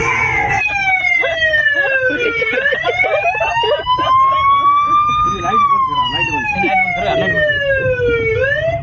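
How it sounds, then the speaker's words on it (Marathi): A police-style siren fitted to a car wails loudly and close by through a village, its pitch sweeping slowly up and down in long continuous cycles, with people talking underneath. "यांनी पोलिसाचं सायरन वगैरे लावलं होतं."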